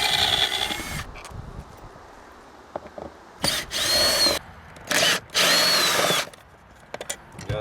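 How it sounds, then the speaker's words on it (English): A power drill backs screws out of a Smooth Moves Ultra seat swivel base, with several loud whirring bursts of varying length, close up, separated by quieter handling and clicks. "I'm just going to pull these screws out"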